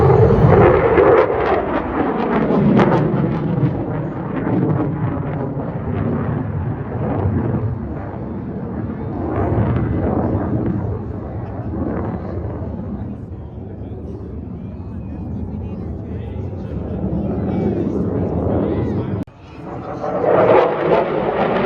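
A military jet roars past at the Yuma air show, a loud, broad rumbling swell that rises, fades and surges again, with spectators talking excitedly over it.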